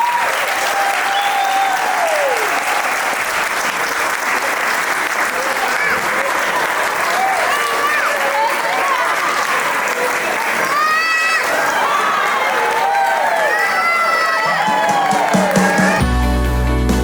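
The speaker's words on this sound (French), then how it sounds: "Applaudissez-les." Wedding guests break into sustained applause mixed with crowd cheering and whoops, loud and continuous for the whole stretch, with some voices audible through the clapping.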